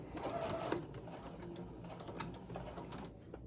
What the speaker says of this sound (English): I'm just going to go sew this closed